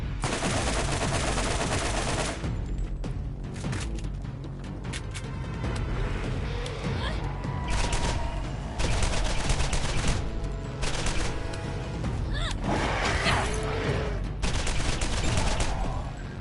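Rapid automatic gunfire in the Borderlands shooter game rattles in dense, sustained bursts with brief lulls, loud and close, with no talking.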